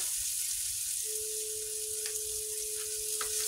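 Onions sizzle in hot oil with whole spices such as cardamom and cloves, a steady close hiss of frying with a thin whistling tone running underneath and a couple of faint clinks.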